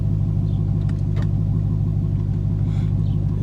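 An Infiniti G37 struggles to start, with a steady, pulsing low mechanical rumble that runs through the whole stretch without any rise in revs and no talking.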